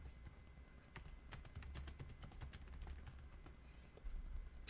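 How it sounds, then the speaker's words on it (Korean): Keys tapped on a computer keyboard while text is entered in a terminal editor, a quiet run of irregular clicks at moderate pace over a low background hum, with no talking. "그러면 이제 타이핑을 할 수 있어요."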